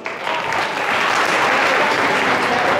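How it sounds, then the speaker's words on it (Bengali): Audience at a Leo leadership and careers summit applauding a dancer, dense loud clapping from a large crowd, sustained and even throughout. "এই আপুটা অনেক সুন্দর ডান্স করেছে, তার জন্য একটা জোরে করতালি দেন প্লিজ।"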